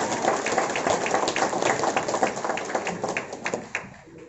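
A seminar audience in a hall claps in a dense, rapid patter, a sustained roomful of hands that stays fairly loud, then thins into a few last claps before fading.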